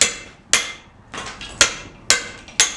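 A hammer strikes a chisel on carving stone five times at an uneven, unhurried pace, each blow a bright, sharp metallic clink with a short ringing decay, heard close and alone.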